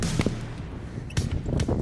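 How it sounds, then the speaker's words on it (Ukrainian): Gunshots fired on a shooting range, a few sharp close reports spaced unevenly over about two seconds. "Чотири постріли."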